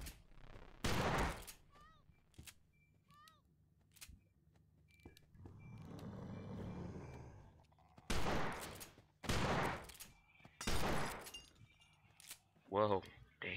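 Shotgun gunfire in the video game No More Room in Hell, several sharp, loud blasts spaced irregularly, some in quick pairs, with a sustained noisy stretch and quiet gaps between, and a voice speaking at times.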